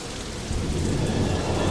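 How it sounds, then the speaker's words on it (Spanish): Heavy caustic acid rain after a volcanic eruption pours down steadily with a deep rumble of thunder swelling underneath, loud and broadband with no voices. "La lluvia cáustica envenena las aguas."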